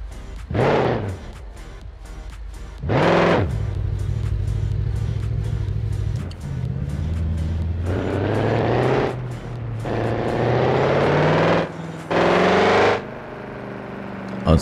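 Audi R8 with a V8 engine driven in the BeamNG driving game, its loud engine droning and revving in repeated bursts, rising and falling as the car accelerates, with short gaps between pulls and no talk.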